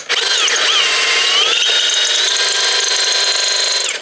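A power drill spins a twist bit into wood at an electrical box during a Siemens surge protector install, a loud, steady high whine with shifting pitch that runs unbroken for about four seconds, then cuts off.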